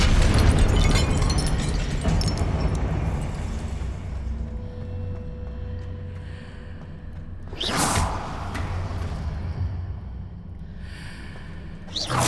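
Confringo blasting spells explode in Hogwarts Legacy: a long rumbling blast fades over several seconds, then two further sharp bursts crack out near the end, loud and close.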